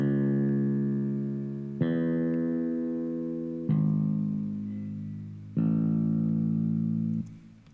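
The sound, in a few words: acoustic-style bass with low end removed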